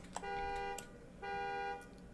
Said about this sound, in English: Someone's car alarm is going off.